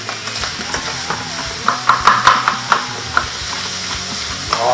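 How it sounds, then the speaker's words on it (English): Rice stir-fried in a hot pan with reserved Chinese barbecue pork sauce, giving a steady sizzle and frying hiss with a cluster of sharper scraping stir strokes midway, close and alone. "And then let's stir fry this up a little bit more."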